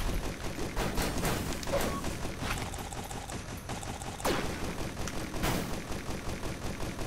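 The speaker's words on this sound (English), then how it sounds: "This turret does a lot of damage." Rapid turret gunfire in the Risk of Rain video game: dense bursts of repeated shots with mechanical clatter, several sharp louder blasts standing out over a constant busy game soundscape.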